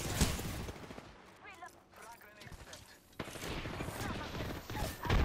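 Bursts of rapid gunfire in Apex Legends, loud at the start and returning in dense volleys near the end, with a quieter stretch between where a voice speaks.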